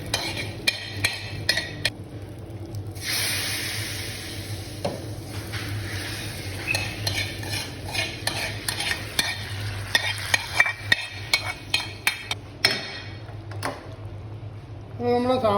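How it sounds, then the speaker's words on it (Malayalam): Mustard seeds and curry leaves fry for a sambar tempering, crackling and sizzling while a spoon scrapes and knocks against the pan in irregular bursts, close and clear. "ഇനി ഇത് കടുക് വറുത്തിടുന്നുണ്ട്."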